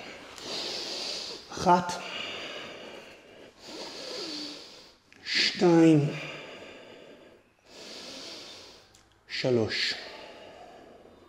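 Slow, deep yoga breaths during a warming winter session: several long airy inhales and exhales spaced a few seconds apart, alternating with a calm voice counting.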